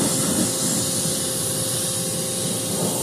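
A pressure washer sprays down an antique Bolens tractor, giving a loud, steady, unbroken hiss of water jet close by with no pauses.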